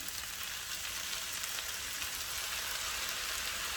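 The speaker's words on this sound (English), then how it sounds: "we are going to be adding our soy sauce in" Soy sauce hits veggie fried rice in a hot pan, setting off a loud, steady, close hiss and sizzle that holds evenly throughout with no voices.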